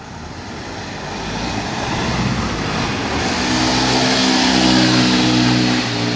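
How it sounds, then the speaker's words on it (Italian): A Piaggio Sfera 125cc four-stroke scooter runs hard during a wheelie on a street, its engine drone steady and close, then swelling and holding a higher revving tone over broad road noise. "Diego in azione mentre lo impenna. 125"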